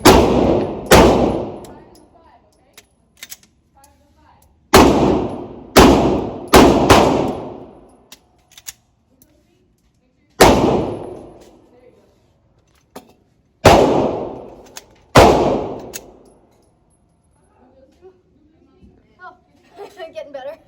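Repeated gunshots with metallic clangs from steel targets during a shooting drill, fired in short clusters of two or three with quiet gaps between, loud and close.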